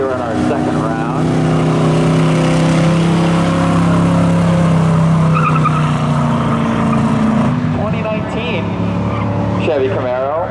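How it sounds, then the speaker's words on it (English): A Chevy Camaro and a 1986 Chevy sit side by side at a spectator drag race, engines rumbling loudly with steady revving throughout, under a commentator's continuous talk. "Chevy Camaro going alongside the not as new Chevy out of 86"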